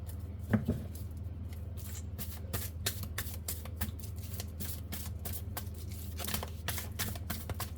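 Tarot cards shuffled and drawn by hand, a close run of quick papery riffles and flicks, fairly quiet.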